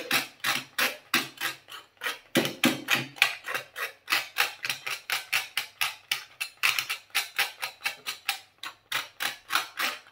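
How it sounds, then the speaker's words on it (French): A utility knife scrapes the striker strip of a matchbox, giving a long run of quick, rhythmic rasping strokes, close and steady, with brief pauses between groups and no talking. "on prend un cutter et on gratte le grattoir de la boîte d'allumettes"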